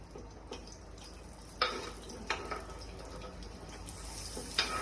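Onion frying in a hot pan while being stirred gives a faint background sizzle broken by a few sharp scraping clanks of the utensil against the pan.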